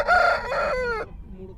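A rooster crowing at a Saturday hen market in Mydukur, a single loud, close crow of about a second with wavering strained notes that breaks off sharply, followed by murmuring market noise.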